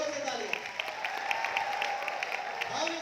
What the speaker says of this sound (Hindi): सबके लिए जोर से तालियां.